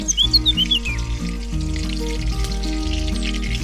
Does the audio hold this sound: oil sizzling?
yes